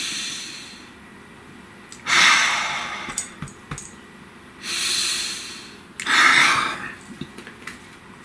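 Slow, deep breaths taken close to the microphone, three long breathy whooshes spaced a couple of seconds apart with small clicks and rustles between them, loud and alone with no speech.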